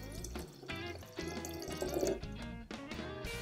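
Water is poured over 150 grams of ground coffee for a 1.5-litre cold brew, an uneven close splashing and filling sound with gurgling that swells midway, with no talking.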